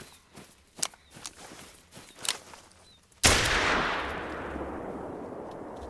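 In theHunter: Call of the Wild, a few soft footstep-like rustles lead to a single loud hunting rifle shot whose sharp crack rolls into a long fading echo across open terrain.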